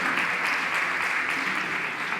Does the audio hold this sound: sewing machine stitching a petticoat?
no